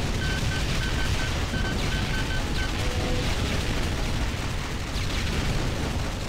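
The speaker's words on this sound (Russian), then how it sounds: "Это вам, ребята, разъяренная ракетница." Rocket launcher firing in a video game, a dense, continuous roaring barrage of blasts and rumbling explosions that stays loud and unbroken throughout, with no talk.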